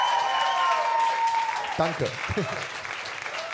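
Crowd applause at a live Würzburg event, a dense steady clatter of many hands that carries on under a brief spoken thanks.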